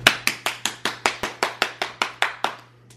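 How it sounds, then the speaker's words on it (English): Eleven evenly spaced, crisp hand claps ring out close and loud in a steady rhythm, each with a short decay, then stop, leaving a quiet low hum. "So a regular clap."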